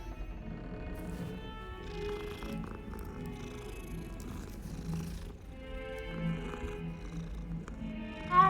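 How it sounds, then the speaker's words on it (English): Cats in the video game Hogwarts Legacy purr with a low, continuous rumble and give soft meows, fairly faint and steady, rising briefly at the very end, with no talk. "Lots of cats."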